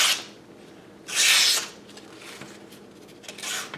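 A Leatherman Wingman multitool blade, somewhat dull, cutting through material in a couple of rasping strokes, one long loud pass then a softer one, close up with no talk.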